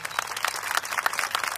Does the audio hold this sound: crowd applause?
yes